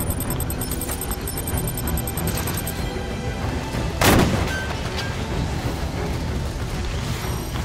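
Halo 5: Guardians gameplay with sustained rapid weapon fire and mechanical clatter, punctuated by one louder explosive rocket-launcher blast near the middle, all dense and close with no talk.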